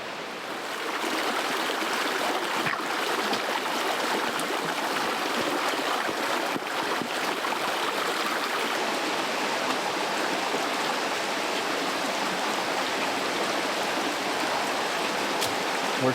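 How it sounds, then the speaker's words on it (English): A mountain creek in the high backcountry flows in a steady, close, unbroken rush of water, alone without talk for the whole stretch. "Creek's right over here."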